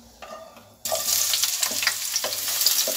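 Onions frying with cumin in a pan for radish-leaf sabzi, a quiet start then a sudden loud burst of crackling sizzle that continues close and steady, with light stirring scrapes.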